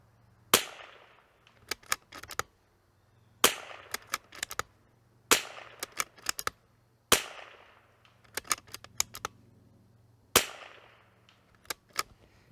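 An l3I Stinger rifle fires a run of loud, sharp cracks at a steady pace, about six shots, each trailed by quick metallic clicks and a short decaying echo, with no talking.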